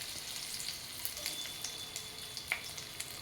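Grated ginger and garlic sizzling in hot oil for Chinese noodles, a continuous crackling hiss with small scattered pops, moderately quiet, with no voices.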